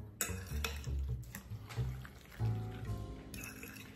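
A fork stirs and presses down a cheddar cheese stuffing for stuffed zucchini squash in a dish, giving close, repeated clinks and soft mushy scrapes in an uneven rhythm, with no talking.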